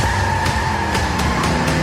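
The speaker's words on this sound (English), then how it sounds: "And why are the tires squeal?" Car tires squeal in a sustained, steady whine over a loud, dense rumble of engine and road noise in a movie trailer. Faint rhythmic pulses run beneath the squeal.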